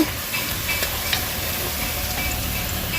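Onion and nigella seeds fry in hot oil with a steady, close sizzle and crackle, with small pops and a faint stirring scrape throughout.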